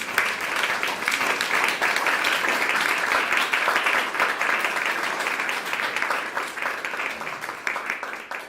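A steady wash of audience applause fills a talk event, sustained and even throughout, with faint voices underneath.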